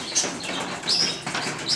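Arab tumbler pigeons taking off from a rooftop, several close bursts of flapping wings in quick succession with light chirps between them.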